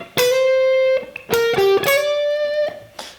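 A distorted electric guitar with a wah effect plays a short lick of sustained notes with slides between pitches, bright and up close, no voices.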